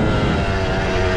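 Modified Yamaha YZ125 two-stroke dirt bike on a flowy trail, a loud steady buzzing engine drone held close for a brief moment.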